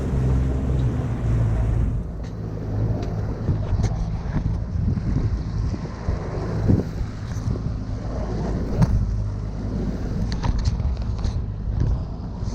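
Strong wind blows at sea during a kayak fishing trip, a continuous heavy roar buffeting the microphone with gusty low rumble and faint water sounds throughout.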